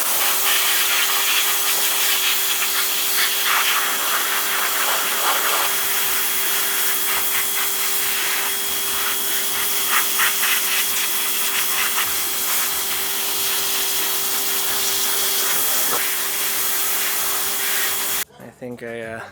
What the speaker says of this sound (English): I'm just gonna pull them out and hit them with the pressure washer